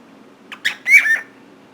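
A cockatiel eating noodles lets out a quick burst of close, shrill squawks and chirps, lasting about a second.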